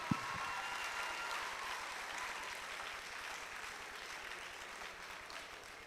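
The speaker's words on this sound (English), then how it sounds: "Clapping. Please keep clapping." Sustained clapping from an audience at an inter-school spoken word stage event in Accra, faint and distant, a continuous even patter that slowly tapers.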